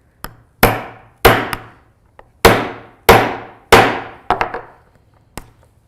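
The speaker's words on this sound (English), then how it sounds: "we're going to hit it with the hammer" Sharp hammer blows strike a craft piece, about eight distinct, loud, close impacts with short decays at an uneven rhythm, alone without talk.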